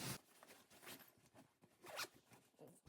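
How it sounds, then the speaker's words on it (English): The zip on a small travel bag is drawn shut in a few brisk, rasping strokes, close by and quiet, with no voices. "Zip that up."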